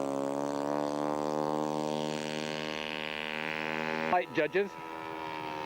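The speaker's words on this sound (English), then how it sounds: "taxiing out for his takeoff. He's flying a Stevens Acro." A Stevens Acro scale model airplane taxis out for takeoff at a scale aircraft show, its engine giving a steady, buzzing, harmonic drone that shifts slightly in pitch. Someone speaks briefly near the end.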